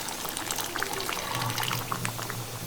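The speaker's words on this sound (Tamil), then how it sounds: "இப்போ அதை கரைச்சி உள்ளே ஊற்றிக்கலாம்." Dissolved tamarind water is poured into a pot of mango sambar, giving a soft, steady splashing trickle up close with a faint bubbling underneath and no talking.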